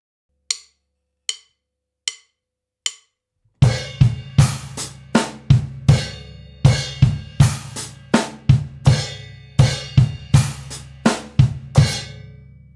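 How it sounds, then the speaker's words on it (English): Drum kit lick: four sharp clicks, then a steady run of punchy hits mixing bass drum kicks with a bright crash cymbal that is choked short each time, close and loud with no talk. "we're going to go up to a choked crash cymbal, which we're going to have the bass drum on the 1."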